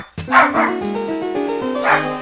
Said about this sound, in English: stop making the dog bark